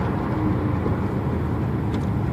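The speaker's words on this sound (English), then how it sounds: "Downshifts, there's no grinds in the transmission." Porsche 911 engine heard from inside while driving, a steady low rumble with a constant drone throughout the short stretch, no talking.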